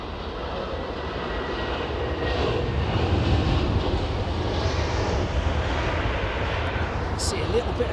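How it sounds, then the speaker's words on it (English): A jet airliner engine rumbles overhead near London Heathrow Airport, a broad steady roar that swells and holds as the aircraft passes low, with faint voices underneath. "you can hear that when they come over the top of us, especially at the paddock, when you get to hear the engines make the alterations in power."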